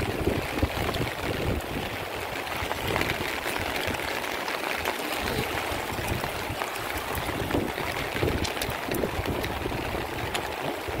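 River floodwater in Isabela rushes through a breached, wrecked flood-control wall, a continuous broadband roar of churning water with gusty wind buffeting the microphone and no talk.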